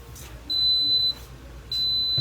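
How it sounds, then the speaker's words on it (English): A kitchen appliance timer on a yogurt maker emits two long, high electronic beeps, each about half a second, separated by a short pause, loud and close. "There's 1 minute left on the timer. It's going to beep."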